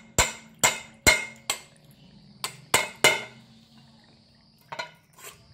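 Sharp, ringing hammer taps knocking a hole into an upturned bowl to make a small planter, about eight close strikes in uneven clusters, each decaying quickly with a faint ceramic ring.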